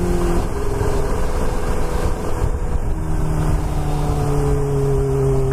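Kawasaki Ninja H2 motorcycle engine running steadily, close and loud, with a continuous drone whose pitch shifts as the revs change, no talking.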